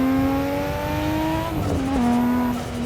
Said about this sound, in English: That is definitely not your standard sounding exhaust.